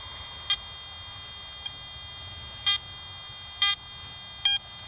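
A metal detector gives high-pitched electronic tones over a steady background hum, with several short sharp beeps at irregular intervals, each lasting a fraction of a second.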